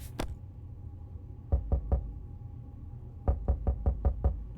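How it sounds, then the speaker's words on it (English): Knocking on a shelter door in the video game 60 Seconds! Reatomized: a couple of sharp raps, a pause, then a group of three and later a faster run of six firm knocks over a low hum. "More knocking at the door."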